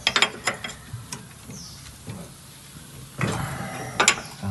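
A loose clamp on a truck's cargo body is tightened with a hand tool, giving short bursts of clicking and metallic ratcheting separated by brief pauses, close and fairly loud against quiet outdoor background.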